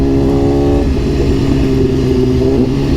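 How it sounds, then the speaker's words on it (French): A motorcycle engine roars loudly and close as it passes by. Its droning pitch drops sharply as it goes past, then the engine rumbles on steadily. "Ah ouais, c'est passé la moto."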